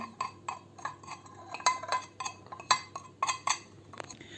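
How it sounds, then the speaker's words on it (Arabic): A spoon mixes ground spices, black pepper and saffron colouring, together in a bowl for a chicken marinade, giving rapid light clinks and scrapes against the bowl in an irregular rhythm, close and fairly quiet. "هسه نخلط كل البهارات سوا"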